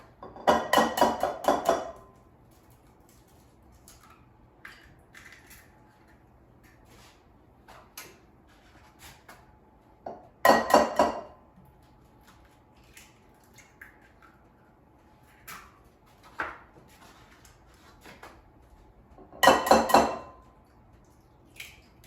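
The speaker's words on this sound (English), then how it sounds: "So I'm going to crack 3 eggs in a bowl" Three eggs are cracked one by one into a bowl for Swedish pancake batter, each a brief burst of tapping, cracking and dripping spaced roughly nine seconds apart, with quieter clinks and handling sounds between.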